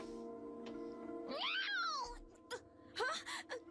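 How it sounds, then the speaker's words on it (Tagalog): A cat meows in two drawn-out, wailing calls, the first long and rising then falling, the second shorter, loud and close, heard alone at night. "Pusa lang pala."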